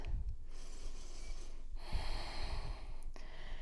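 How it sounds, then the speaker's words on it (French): Someone recovers their breath after a vinyasa yoga flow, with a few quiet, close inhales and exhales, some slightly snorty, over soft room tone. "On vient reprendre sa respiration."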